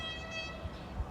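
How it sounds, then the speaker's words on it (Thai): A freight train rumbles faintly at a distance, a low steady drone with tonal horn-like overtones, heard alone for a brief moment. "มาเร็วรถไฟมาแล้ว เป็นไงรถไฟสินค้าจริงๆด้วย"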